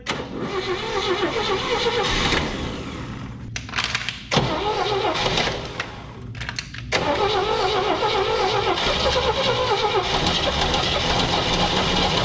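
A 1974 IH Scout engine, parked since the 1980s, cranks in rough bursts with brief pauses, then catches and settles into a steady, fairly loud running rumble close by.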